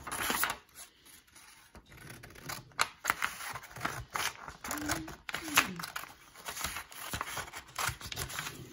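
Scissors snip through paper while a classroom of children cuts out turkey shapes, with small crinkles and rustles of paper and bursts of chatter and talk from a teacher and kids around it.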